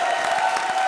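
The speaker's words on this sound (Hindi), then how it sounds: "जोरदार तालियां राजीव और सलोनी के लिए।" A studio audience on the Comedy Circus TV comedy show bursts into dense applause and cheering for Rajeev and Saloni, a brief, steady burst of many hands with a sustained musical tone running underneath.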